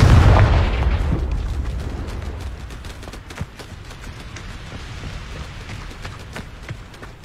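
A Confringo spell explodes in Hogwarts Legacy, landing as a loud, close boom that decays into crackling debris and scattered pops.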